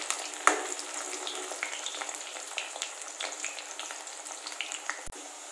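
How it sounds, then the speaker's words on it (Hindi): Suran (elephant foot yam) pieces fry in hot oil, giving a steady crackling sizzle with scattered pops throughout, moderately close and with no voices over it. "इसमें थोड़ा थोड़ा डाल के इसको फ्राई कर लेंगे"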